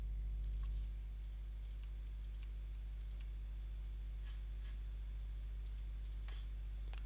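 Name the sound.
typing on computer keyboard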